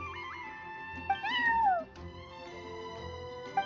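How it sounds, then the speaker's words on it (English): Cat meowing in Genshin Impact, a single clear rising-then-falling meow over quiet background music, fairly close and moderately loud. "That's my neighbor's cat."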